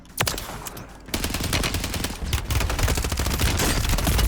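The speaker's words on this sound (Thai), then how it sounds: "มีคนยิงมา" In Call of Duty Warzone, close automatic gunfire opens with a single shot, then rattles through several long, loud bursts of rapid shots, with no one speaking.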